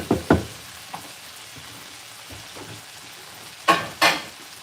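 Garlic fries in butter with Cajun seasoning, a low simmering fizz broken by a few sharp stirring scrapes and clacks of a utensil in the pan, close by and without talk.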